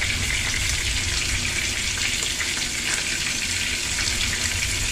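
Halved mushrooms fry in rendered bacon fat for an English breakfast, giving a steady, loud, even sizzle throughout with no break and no talking.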